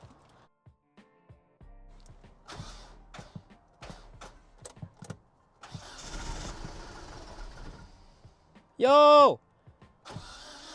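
A Ram 50 pickup with an engine problem is cranked with a few scattered clicks and rattles, then fires with a loud, short roar and dies. A voice gives a brief exclamation.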